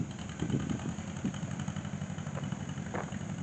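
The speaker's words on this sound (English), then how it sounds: "This is a 1959 John Deere 730 diesel." A 1959 John Deere 730 diesel tractor idling at an outdoor steam and gas engine show, a steady low chugging throb running throughout with faint background noise.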